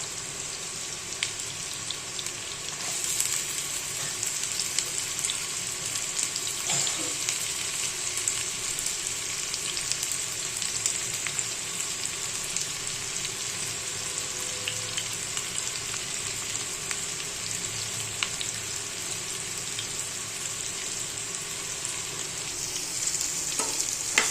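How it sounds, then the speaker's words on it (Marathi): Onion and a few garlic cloves fry in oil in a tempering, an even, continuous sizzling hiss held for over twenty seconds with a few faint clicks, moderately close and unbroken by talk. "आणि आता कांदा पण टाकून घ्यायचा. कांदा तेलामध्ये फ्राय होऊन द्यायचा चांगला."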